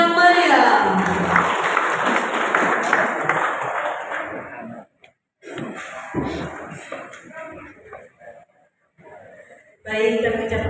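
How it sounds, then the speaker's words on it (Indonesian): An audience applauds loudly at an Angkatan Muda Siliwangi board inauguration ceremony in Cileungsi, a dense burst of clapping that fades out, with a presenter's voice and a short second burst of applause later. "Tepuk tangan yang meriah."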